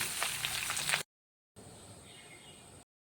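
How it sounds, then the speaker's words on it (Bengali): Potatoes frying in a pan with salt for a pea and potato curry, a steady close hiss in two stretches separated by a brief silence. "ভেজে নিলাম।"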